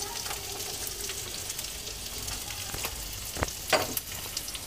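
Capsicum and onion sautéing in a pan for a sewai noodle dish, a soft continuous sizzle with a few sharper knocks and scrapes of stirring near the end.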